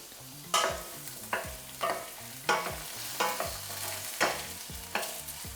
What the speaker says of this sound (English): once you've got this sort of color on the carrots, you can give them a stir.